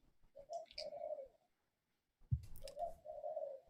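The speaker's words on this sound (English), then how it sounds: "there's a fucking owl outside" An owl hoots outside in the daytime: two soft, muffled bursts of low hooting separated by a quiet gap, faint and somewhat distant.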